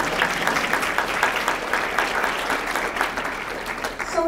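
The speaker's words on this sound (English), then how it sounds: "Applause." Steady applause from a crowd at an affordable housing summit, a dense patter of clapping that holds evenly throughout without breaks.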